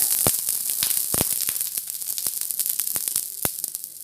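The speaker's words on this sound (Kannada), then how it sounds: "ಹೆಂಚು ಕಾದಿದೆ, ದೋಸೆ ಹಾಕ್ತೀನಿ" Onion dosa batter poured onto a hot griddle crackles in a continuous close sizzle, dotted with sharp popping clicks.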